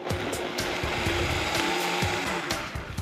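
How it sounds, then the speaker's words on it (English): A blender purees softened mango, onion and garlic into a glaze, a loud continuous whir with chopping pulses running steadily throughout, close and alone without speech. "I'm gonna puree this in a blender."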